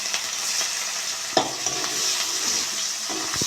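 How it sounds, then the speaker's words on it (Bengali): Chopped onion frying in hot oil with whole garam masala and cumin in a pan for a potato and pointed gourd curry, a steady close sizzle broken by several scraping stirs of a spoon. "একটা পেঁয়াজ কেটে রেখে সেটা দিয়ে দেবো।"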